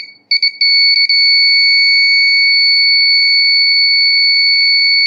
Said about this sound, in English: the active buzzer